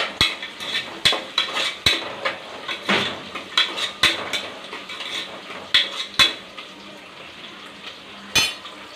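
A metal spoon scrapes and clinks against a frying pan while stirring sizzling food at a home stove, with sharp irregular knocks every second or so over a steady frying hiss.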